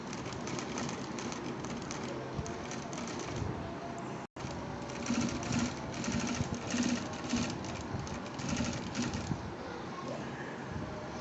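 A sewing machine stitching a shirt placket runs in a continuous, even rapid whir with one brief stop partway through, close and steady, with no voice.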